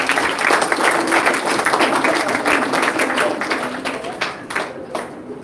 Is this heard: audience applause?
yes